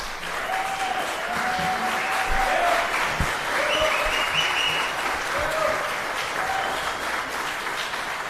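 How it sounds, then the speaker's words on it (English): A city commission meeting audience at the Gulfstream Hotel breaks into steady, dense applause that holds for several seconds, with faint voices and whistles threaded through the clapping. "while it is nice to get applause and things"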